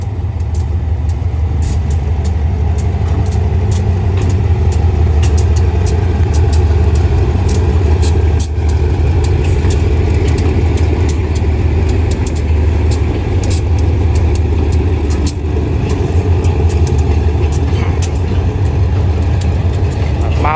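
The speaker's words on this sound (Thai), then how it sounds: "ขบวน 721 ก็กำลังไหล ออกจากสถานีรถไฟสุราษฎร์ธานีในชานชลาที่ 1" Freight train 721 pulling out of platform 1 at Surat Thani railway station, a loud continuous low engine rumble with steady rolling wheel noise and faint rhythmic clicks running throughout.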